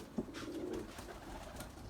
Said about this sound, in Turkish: Erkek kabarıyor. Ötüyor işte öyle geziyorlar.